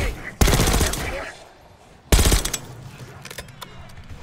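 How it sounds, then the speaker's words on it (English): Two loud bursts of automatic gunfire in a video game, echoing up from a lower floor of a building, each rattling for about a second before fading, with a few faint sharp cracks trailing after. "we hear gunfire"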